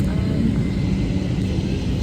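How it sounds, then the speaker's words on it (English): Garuda Indonesia Boeing airliner taxiing toward the runway, heard from inside as a steady, loud low engine rumble and cabin hum that holds constant throughout without pauses. "Time for taxiing to the runway."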